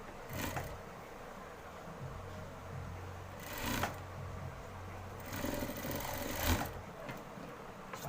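A sewing machine stitches the round neckline of a panjabi, its steady mechanical whir running close and continuous, with brief louder bursts of faster stitching near the start and middle.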